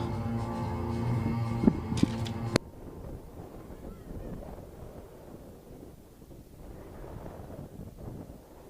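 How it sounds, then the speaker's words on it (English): Gusty wind at an Ozark baseball field blows across the microphone as a steady rumbling roar, following a brief burst of other noise at the start. "Wind speeds are up to 17 miles an hour at Ozark."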